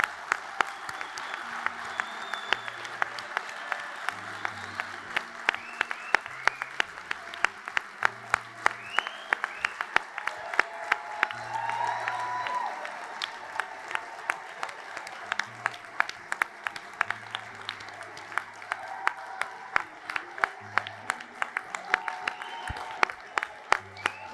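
Seated men in a convention audience of several hundred applaud loudly and at length, sharp individual claps standing out over dense clapping, with a voice speaking over it at times.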